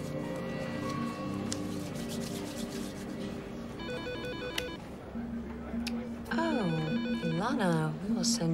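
A telephone rings with repeated electronic trilling tones, several bursts growing louder toward the end, with a person's voice speaking beforehand in an indoor scene.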